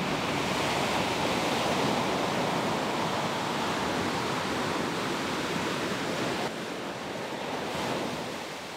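Ocean surf waves roll in a steady, dense roar of broadband noise, loud and continuous, easing slightly near the end with no voices.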